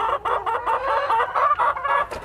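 Laying hens on a Thai egg farm cluck close up in a busy, continuous run of short calls, loud and heard without talk.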